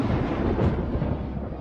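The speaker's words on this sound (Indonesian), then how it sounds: "Badai petir, di depan!" Thunder from a thunderstorm in an animated movie, a dense, steady low rumble filling the short moment without a clear crack or break.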